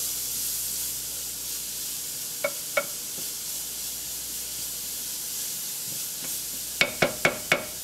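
Butter gently cooking in a pan on moderate heat gives a steady soft sizzle and hiss, with a few sharp clicks of a utensil near the end and no talking.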